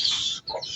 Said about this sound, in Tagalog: Manok! As ka dyan!